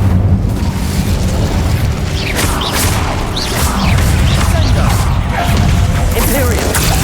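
Incendio fire spell blasts in the Hogwarts Legacy video game on ultra settings, booming bursts of flame crackling in a dense, loud, continuous stream of combat noise with rumbling low end, a voice shouting over it.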